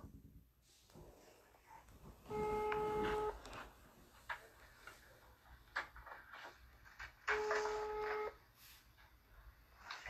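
Telephone keypad tones sound before a call to Gabon from France: two sustained electronic beep bursts about a second long each, separated by quieter clicks and handling noise, faint and close.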